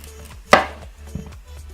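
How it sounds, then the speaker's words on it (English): Kitchen knife cutting the tail off a beet on a cutting board, one sharp close chop followed by a softer tap, with no talking. "I'm just going to cut the tail."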